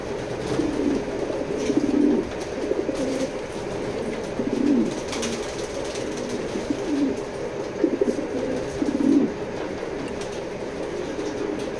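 A pair of racer pigeons coos in soft, low, repeated phrases every second or two, close by, under a steady droning hum of background noise.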